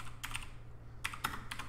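A few quick, light keystrokes on a computer keyboard while a console command is typed in Counter-Strike: Global Offensive, short clustered taps separated by pauses over a quiet hum.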